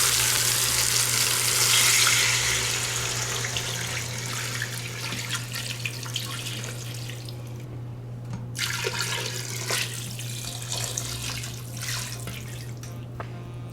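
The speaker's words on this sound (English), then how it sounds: "I'm going to add 8 cups of water." Water poured into an Instant Pot pressure cooker holding bone broth ingredients with ginger, a steady splashing rush that drops out briefly midway and then resumes over a low constant electrical hum.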